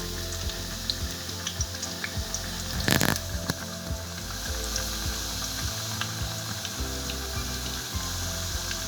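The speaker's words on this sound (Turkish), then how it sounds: "Tavada ısıttığım yağımın içine bırakıyorum. Patlıcanlarımı kızartmak için." Eggplant sizzles and crackles steadily in hot oil in a pan, with a brief louder hiss partway through and occasional clinks of utensils.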